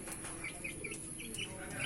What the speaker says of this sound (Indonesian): Oke, ini dia ayam saya,